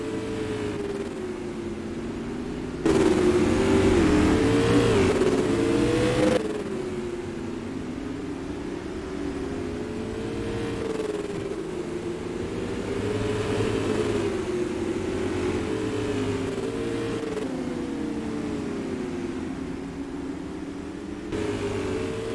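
Race car engines drone and rise in pitch around the short oval at Star Speedway during a SUPRS super late model race, with one louder burst near the start and waves of engine sound passing continuously.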